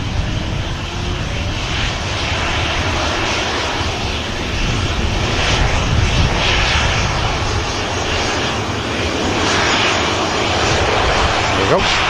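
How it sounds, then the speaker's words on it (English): Jet engines of an airliner warm up on the runway at Manchester Airport, a loud steady roar with a broad whine that holds through the whole span, with a voice talking over it. "Just giving the engines a warm up."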